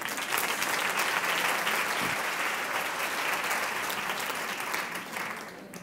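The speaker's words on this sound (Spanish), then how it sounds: "Y un aplauso, claro." A seminar audience at a talk on teachers' emotional skills and wellbeing breaks into steady, dense applause lasting several seconds, fairly loud and close, thinning slightly near the end.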